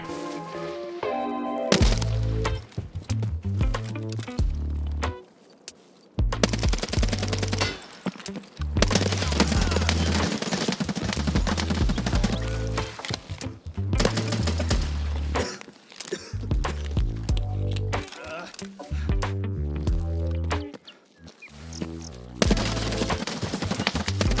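Gunfire from Escape from Tarkov near an extraction point rattles in repeated bursts and single loud cracks, with dense overlapping shots and brief quieter gaps, no talk over it.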